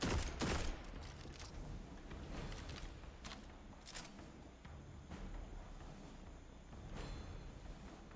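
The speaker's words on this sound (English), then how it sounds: "that's a very slow fire scout rifle" A slow-firing scout rifle in a video game lets off several single shots spaced a second or more apart, each a sharp crack standing out against a steady background rumble of battle noise.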